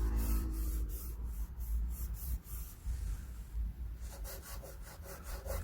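Sandpaper rasps across wooden furniture along the grain in steady back-and-forth strokes. The sound is close and fairly soft, and it turns brighter and scratchier toward the end.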